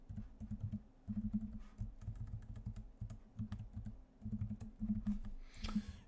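Quick keystrokes on a computer keyboard while a name is typed, heard close and fairly quiet as an uneven run of clicks with brief pauses and no talking.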